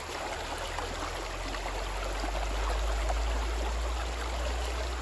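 A river stream flows steadily over its bed, a continuous close rushing wash with no voices.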